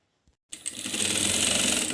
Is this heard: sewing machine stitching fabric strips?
yes